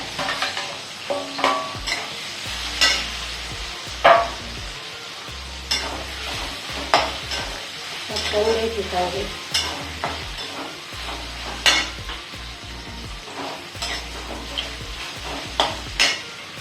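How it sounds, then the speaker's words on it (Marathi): Okra (bhindi) tossed and stir-fried in a pan with turmeric, steady sizzling under repeated scraping and clanking strokes of a spatula against the pan, close and moderately loud. "याची भेंडी आहे ती आपण याच्यात टाकून घ्यायची"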